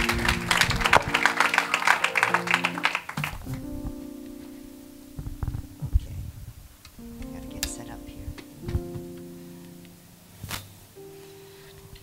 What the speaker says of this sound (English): So give a hand clap to the worship team.